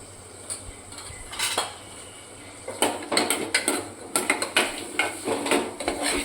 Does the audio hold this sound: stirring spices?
yes